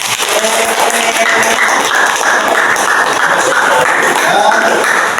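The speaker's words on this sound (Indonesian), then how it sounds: "Wah, hebat, tepuk tangan." Students in a classroom applaud a group's poster, continuous brisk clapping filling the room for about five seconds with voices mingled underneath.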